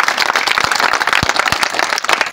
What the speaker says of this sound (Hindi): आप सभी से गुजारिश है कि जोरदार तालियों से भैया का स्वागत किया जाए।